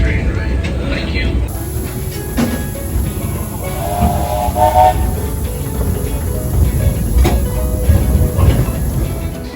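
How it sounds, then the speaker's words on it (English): Steam train excursion ride in Barbados, a continuous loud rumble and rattle of rail cars rolling along the track with hissing and occasional clatter, heard from on board with some background voices. "just enjoy the train ride"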